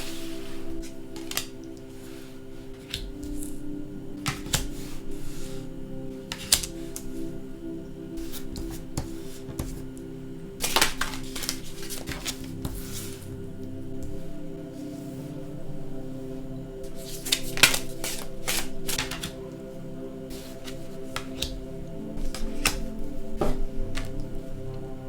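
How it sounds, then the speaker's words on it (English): Tarot cards are shuffled by hand for a reading, with repeated riffles and soft rubbing swishes in irregular bursts, close and fairly loud. "I'm just going to start shuffling the cards"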